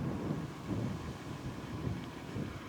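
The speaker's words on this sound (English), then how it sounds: "it is quite windy today" Strong wind buffets the microphone outdoors along an old abandoned railway grade, a loud continuous rumbling roar with gusty swells and no talk.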